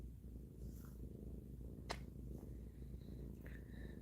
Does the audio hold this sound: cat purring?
yes